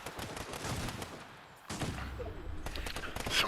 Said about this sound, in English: Some more shooting going on.